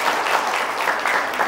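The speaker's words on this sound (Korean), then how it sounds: "두 분한테 큰 박수 한번 부탁드립니다." Brief, full applause from the audience at a leadership lecture, a dense steady patter of many hands clapping at once.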